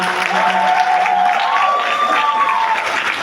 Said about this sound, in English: More claps now.